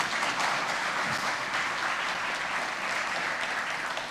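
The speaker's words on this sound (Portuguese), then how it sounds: "Dê um aplauso ao Senhor por isso." During a sermon, a church congregation breaks into steady applause for the Lord, a continuous wash of many hands clapping at a moderate, somewhat distant level.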